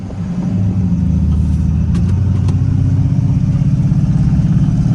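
A Ford work truck's engine floored at full throttle, a loud, steady low rumble close by that holds constant for the whole stretch with no talking.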